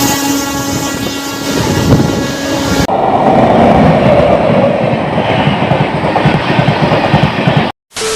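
The Howrah-Puri Vande Bharat express rushing past while overtaking another train, a loud roaring wash of wheel and air noise with a tonal hum at first, then a broad rumble heard close, ending abruptly.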